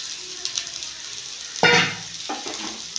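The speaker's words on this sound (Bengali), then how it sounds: "আমি নাড়িয়ে নেবো ভালো করে।" Semolina that was roasted earlier is being stirred in a frying pan with fried vegetables. A soft sizzle runs throughout, then a louder scrape and clatter of stirring comes about halfway through, followed by a second, shorter burst.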